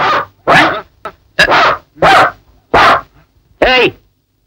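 A dog barks in a Telugu comedy film scene, six or seven loud, sharp barks spaced about half a second apart, close and alone with no talk over them.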